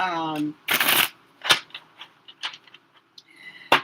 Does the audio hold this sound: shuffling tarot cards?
yes